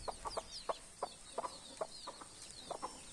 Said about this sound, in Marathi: आपण पहिले बसवलेल्या कोंबड्या पण आहेत